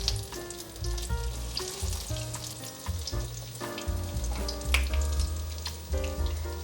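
Vegan avocado patties shallow-frying in oil in a pan give off a steady, close sizzle with dense crackling spatters, heard over a layer of background music.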